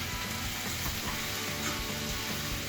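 Sofrito with onion and carrot sizzles steadily in a pan while it is stirred, giving a constant close frying hiss with faint stirring movement and no talk.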